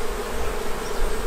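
Honeybees swarm at a crowded hive, giving a dense, steady buzzing hum that fills the air up close without a break.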